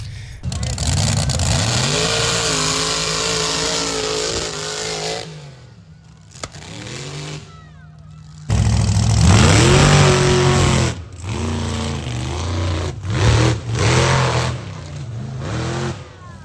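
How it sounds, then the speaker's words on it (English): Trucks revving their engines at a country fair mud bog in Connecticut, a loud rumbling roar that surges and drops in several bursts, with a brief quieter lull before a second strong run of revving. "I'll include a couple clips from the trucks and the mud bog and stuff here."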